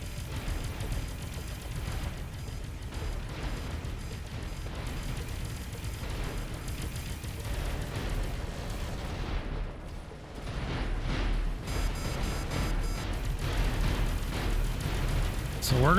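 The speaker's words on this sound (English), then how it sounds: "That must have been a shield penetrating torpedo." Torpedo impacts from space combat in Avorion, a dense rumbling barrage of booming hits and bursts that sustains loud and continuous throughout, with no pause between blasts.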